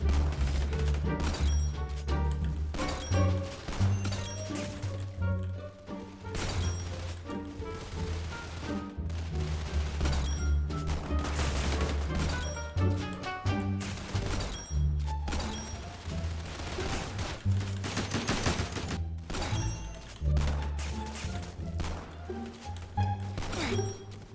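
Rapid video game gunfire from a gun fired from the hip, shots rattling off in dense, continuous bursts with brief gaps, loud and close throughout, alongside thuds and impact cracks.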